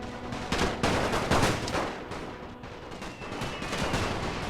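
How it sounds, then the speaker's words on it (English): Machine gun fire in a World War I strategy video game, a dense continuous rattle of rapid shots rolling on without pause. "The machine gun fire would have devastated these guys"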